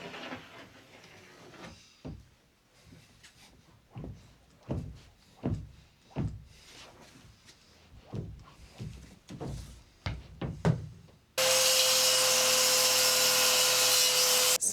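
A saw cuts plywood sheathing on an off-grid build in the mountains of Mexico: close, rhythmic rasping strokes with woody knocks, then a loud, steady power-tool roar for the last few seconds.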